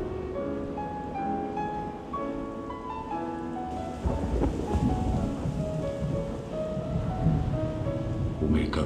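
Thunder rumbles loudly over steady rain on surfaces, with a sustained tone running beneath and a heavier, louder burst of storm noise in the second half.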